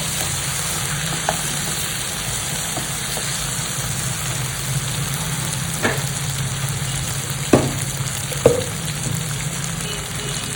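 Turmeric sautéing in a pan for dalia khichdi, a steady crackling fry hiss with occasional spoon taps and scrapes against the pan.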